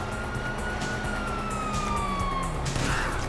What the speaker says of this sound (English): Sirens! Fuck the cops!